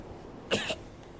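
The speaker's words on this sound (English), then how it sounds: "There's a very honest energy to that cough" A single short, dry cough from a character in the video game Zeno Clash, one sharp burst followed by a smaller second push, close and clear over a quiet background.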